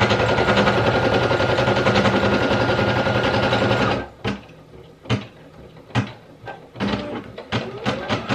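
A Brother PE800 embroidery machine stitches an applique with a loud, rapid, steady mechanical whir for about four seconds. It then stops, followed by several separate clunks and clicks from the machine.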